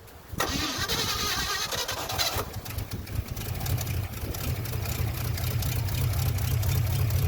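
A 1957 Chevy V8 with a rebuilt carburetor cranks with a whirring starter, then catches and settles into a deep, rumbling idle that stays loud and steady.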